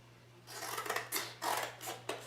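Big scissors cut through thin cardboard in several crisp, rasping snips, close and distinct, with short pauses between strokes and no talking.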